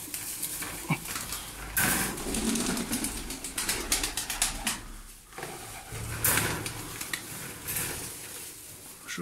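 Milk-white Musul Gaga pigeons flap their wings in a loft, with repeated close, airy flutters and brief wing bursts throughout.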